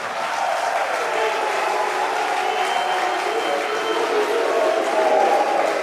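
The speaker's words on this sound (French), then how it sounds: "Il faut applaudir Madame la Première Dame." A crowd at a political gathering in Côte d'Ivoire applauds the First Lady, a steady, moderately loud wash of clapping and crowd noise lasting the whole few seconds without a break.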